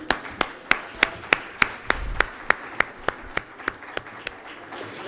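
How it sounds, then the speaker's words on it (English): Slow, steady claps from a summit audience at a nuclear energy conference in Kenya, sharp evenly spaced hits about three per second over a low room murmur, with no talking. "A round of applause to them."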